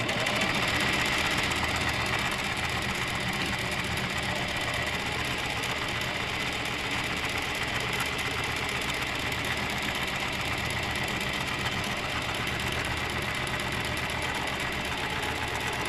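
A sewing machine runs a quarter-inch seam across the top of a fabric piece, its steady mechanical whirr and rapid needle chatter continuing unbroken and fairly close for the whole stretch, with no talking.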